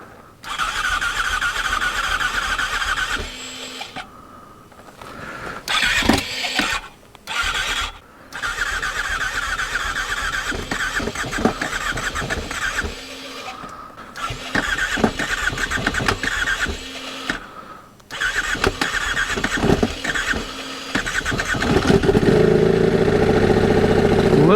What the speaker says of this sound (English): cold start on this hunk